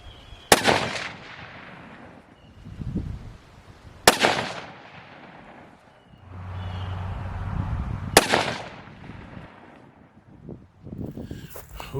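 A 7mm-08 rifle fires three sharp, loud shots roughly four seconds apart, each with a brief echoing decay, with faint background rustle between them.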